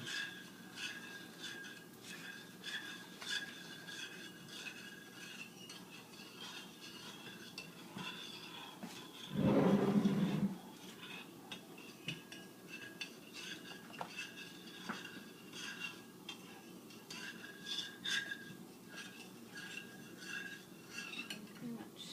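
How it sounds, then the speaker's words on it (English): Jello powder, water and rum are stirred together, giving faint, steady clinks and scrapes of a utensil against the container, with a short louder rustle partway through. "Combine the jello packet, the water, and the rum all together. You have to stir it for about 2 minutes or so."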